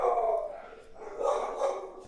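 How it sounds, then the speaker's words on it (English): A dog barks somewhere in the room, a few muffled, moderately loud barks spaced out over a couple of seconds, with no clear speech. "There's the dog."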